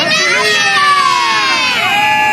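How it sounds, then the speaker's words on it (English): New Year's Eve crowd in Times Square cheering, a loud, dense roar of many voices with high shouts and whoops layered throughout. "the crowd is gathering in Times Square"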